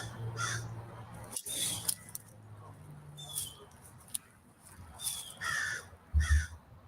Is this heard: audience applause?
no